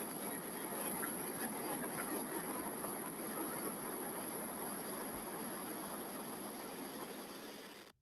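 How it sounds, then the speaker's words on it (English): Apollo 11 rocket launch heard on a broadcast recording, a dense, continuous roar that holds steady for several seconds before cutting off abruptly, with no clear talk. "What you just heard was the Apollo 11 launch to the moon."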